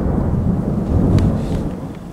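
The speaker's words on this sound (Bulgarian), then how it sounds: "Вечерта ни изненада страшна буря." A night thunderstorm by the sea: dense, heavy rain roars close and loud while a deep thunder rumble swells and fades beneath it, with no voices.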